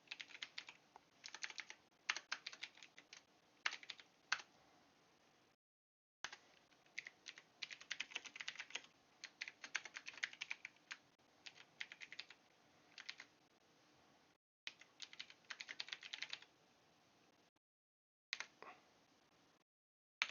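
Typing on a computer keyboard while writing a software test, bursts of quick close clicking keystrokes separated by short pauses, alone without talk.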